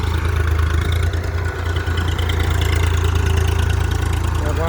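A tractor engine runs steadily at a low idle-like rumble throughout while millet is sown in a farm field. The sound is loud and continuous with no clear revving.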